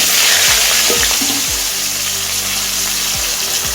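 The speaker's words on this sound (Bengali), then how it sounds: "এবার আলুটাকে আমি গোল্ডেন করে ভেজে নেব।" Small whole potatoes fry in hot oil in a kadai with a loud, steady sizzle close by. Faint scraping stirs come now and then over the constant crackle, with no talk.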